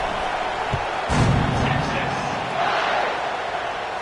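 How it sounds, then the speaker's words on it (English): A college football stadium crowd buzzes and roars after a score, a loud, dense wash of cheering with a thump near the start, under a commentator's voice. "this crowd is buzzing after that last score"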